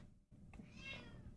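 A house cat lets out a single short meow, faint and a little distant, over quiet room noise.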